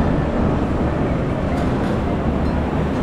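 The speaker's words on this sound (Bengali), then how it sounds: "সে অলরেডি মেট্রো চলে আসছে" Moscow metro train arriving at a station near Red Square, a loud low rumbling roar of wheels and motors that fills the platform steadily for the whole moment, with no talk.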